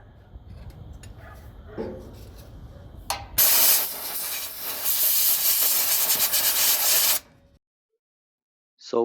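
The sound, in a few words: spraying starting fluid and air to clean sensor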